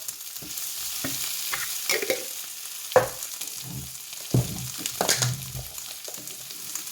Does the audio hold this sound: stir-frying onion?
yes